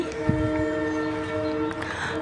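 A train at Siliguri Junction railway station, a sustained tonal horn or whistle drone over platform rumble, fairly close and steady throughout, with a faint knock early on.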